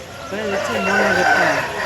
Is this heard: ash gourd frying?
no